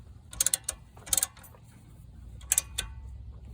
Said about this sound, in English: I'm going to use my brake pads piston spreader, this tool right here